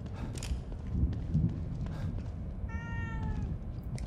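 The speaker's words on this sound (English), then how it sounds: "See you later, kitty!" Cat meowing in the horror video game The Evil Within 2, a single clear meow rising out of a busy background of game ambience and footstep-like thuds.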